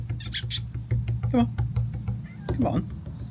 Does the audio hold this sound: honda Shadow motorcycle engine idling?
no